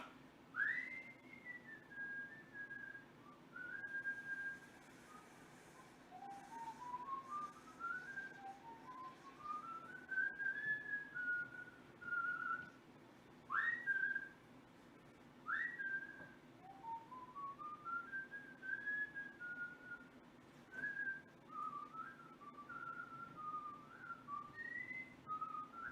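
A person whistles the melody of a song while watering plants. Clear, moderately close phrases rise and slide, with short pauses between them, over a steady low background hum and no talk.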